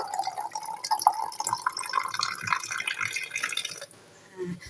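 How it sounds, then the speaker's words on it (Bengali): Water pouring into bottles from a tap in a home kitchen, a steady rising trickle and gurgle that climbs in pitch as each bottle fills, then stops abruptly near the end. "আর এইখানে জল ভরছি"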